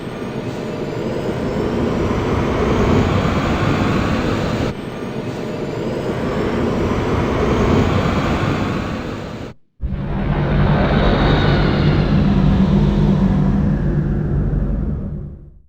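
A spacecraft takes off in the Wing Commander sci-fi films, a loud sustained jet-like engine roar that cuts out briefly and returns as a deeper, rumbling thrust.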